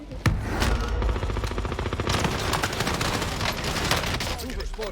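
An automated sentry gun in the Warzone video game fires rapid bursts, loud and continuous, mixed with other gunfire and battle noise.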